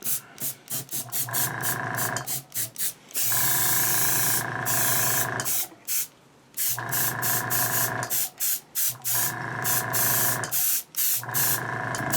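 Spray paint hissing in short and longer bursts to weather and scorch the inside of a jetpack nozzle, close and loud, with brief gaps between passes.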